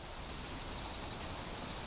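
A river flows nearby with a steady, dense rushing wash of water that holds even throughout, with no talking.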